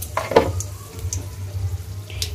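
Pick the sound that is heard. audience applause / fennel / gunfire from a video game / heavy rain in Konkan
fennel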